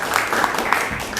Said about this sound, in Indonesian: Ya, berikan tepuk tangan ya.